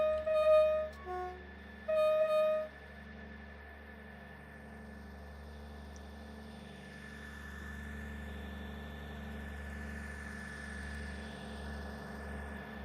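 A triple set of straight-six diesel engines in a Train Sim game locomotive drones low and steady throughout, with a few short tonal chimes near the start before a constant idling hum.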